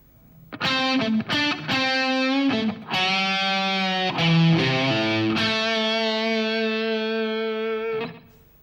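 A sustained electric guitar phrase from a solo with a gritty, overdriven tone: a few quick picked notes, then long held bends ringing out loud and alone.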